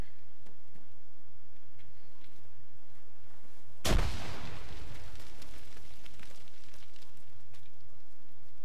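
A grenade explodes in Arma 3 during a night mission, one sudden loud blast with a rumbling tail that fades over a few seconds against a steady background hum.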